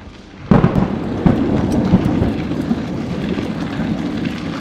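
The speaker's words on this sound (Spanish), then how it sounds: "¿cómo está tronando?" Thunder rumbles during a night mountain bike ride on a hill, starting with a sudden crack and then rolling on as a continuous low roar that stays loud and close.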